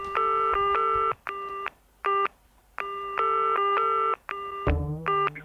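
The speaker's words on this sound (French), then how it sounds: "Un répondeur de Juste avant la nuit qui commence ainsi." Touch-tone telephone dialing as an answering machine call begins: crisp dual-tone beeps in quick bursts of varied length with short gaps, then a brief shifting tone near the end, loud and close.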